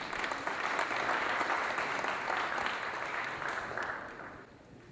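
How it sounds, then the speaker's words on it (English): An audience claps steadily for several seconds, the dense applause slowly thinning toward the end. "Let us give a big round of applause to Sravani."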